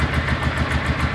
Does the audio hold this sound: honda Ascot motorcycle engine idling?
yes